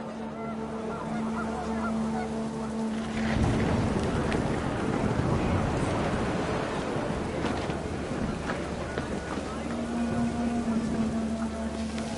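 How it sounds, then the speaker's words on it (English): Heavy rain pours steadily in a video game with low rolling thunder rumbling through, a dense hiss of downpour swelling in the middle and holding on. "Rain came down in buckets then"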